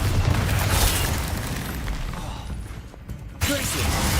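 The Bombarda spell in Hogwarts Legacy lands as a booming explosion amid ongoing combat rumble, a dense roar that cuts off abruptly before a second burst.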